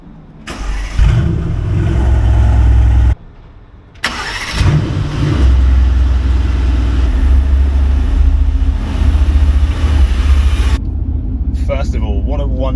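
The 4-litre twin-turbo V8 of a Mercedes-AMG GT R Pro, rated at 577 horsepower, fires up with a loud bark, drops briefly, then settles into a deep, heavy rumbling idle close by, with talking over the engine near the end.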